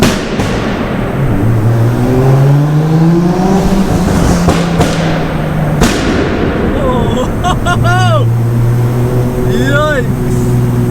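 Heavily tuned 700 bhp Nissan Skyline R33 roaring through a tunnel, loud and close, revs sweeping up and down amid sharp crackling pops and bangs, with voices shouting at times.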